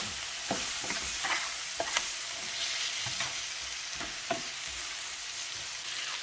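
Onions caramelizing with brown sugar in hot olive oil, a steady dense sizzle with occasional stirring scrapes and light taps from a utensil, close and loud throughout.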